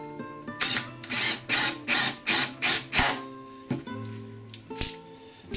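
A drill press bores through wood for a stick chair in a run of about eight loud, rhythmic bursts over a steady motor whine, then slows to a few spaced pulses.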